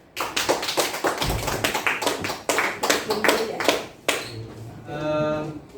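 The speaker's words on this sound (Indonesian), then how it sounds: "Mari kita berikan tepuk tangan." Audience at a school dissemination session clapping, a quick run of sharp nearby claps in a loose rhythm, fading out with a brief voice at the end.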